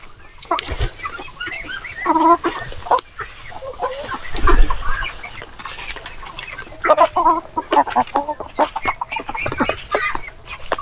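Chickens on a small farm cluck and call in a steady, busy chorus at close range, with scattered rustling and a few thumps mixed in.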